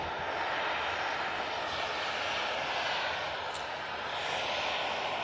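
A Ryanair Boeing 737-800 jet takes off down the runway at Manchester Airport, its engines a loud, steady roar heard close by, with no talking.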